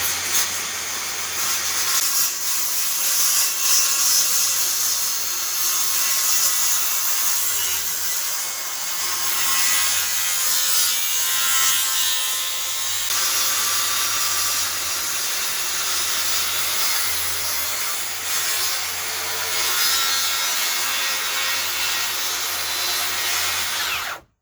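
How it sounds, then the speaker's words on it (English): A power saw plunge-cuts along a marked line in wood, a loud continuous whining, hissing cut that runs nearly unbroken close by until it stops abruptly at the end. "then plunge your saw down into your line"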